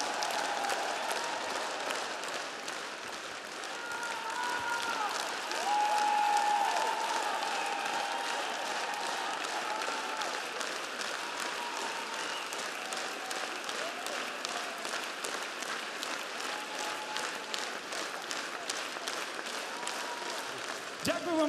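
A concert audience gives sustained, dense applause after a performance with the National Radio Orchestra, loud and continuous, with a voice speaking over the clapping.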